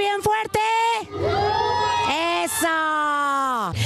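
Crowd at a Halloween haunted caravan screaming loudly, sustained high voiced yells and whoops layered together, close and intense throughout.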